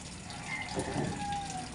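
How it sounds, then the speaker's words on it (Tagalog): Water pours steadily into a Samsung 7.5 kg top-load washing machine as it fills, a soft continuous gushing close by with no talk over it. "nagkakarga pa ng tubig"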